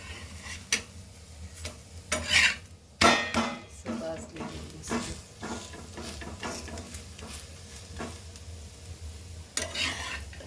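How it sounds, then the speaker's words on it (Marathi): A Maharashtrian methi thalipeeth flatbread roasting on a pan gives a soft steady sizzle, broken by sharp clatters and scrapes of a spatula working the pan at irregular intervals, close by and with no talking. "आता आपण दुसरं थालीपीठ भाजून घेऊया."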